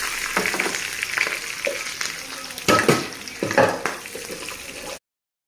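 Beef fries in hot coconut oil with cumin, crushed garlic, green chilli and curry leaves, a crackling sizzle broken by louder bursts of stirring and spattering, close and fairly loud before cutting off.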